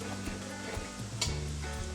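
Onion and dried chili hit hot oil for a tempering, giving a steady close sizzle with a brief louder crackle partway through, alongside a low hum in the background.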